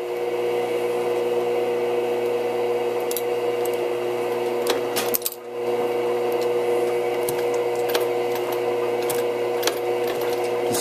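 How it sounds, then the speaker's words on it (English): A hand-crank sewing machine stitches through thick leather for a knife sheath, making a steady close mechanical whir with rhythmic clicks that pauses briefly midway, then resumes, loud and alone without speech. "It's pretty thick for this sewing machine, but a hand crank and I'll get it done."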